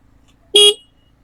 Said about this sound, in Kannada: ಹಾರನ್ ತುಂಬ ಲೌಡ್ ಆಗಿದೆ